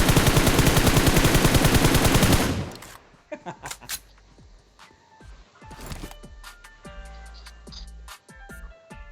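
Gunfire in the video game PUBG opens with a loud, sustained rapid automatic burst, followed by scattered single shots and distant pops with footstep-like sounds.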